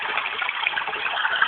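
A white noise machine on its waterfall setting gives off a steady, unbroken rush of water-like hiss, even and continuous throughout, with no voices.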